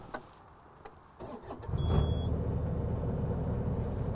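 A compact loader's small diesel engine cranks and catches around two seconds in, then settles into a steady, close idle rumble.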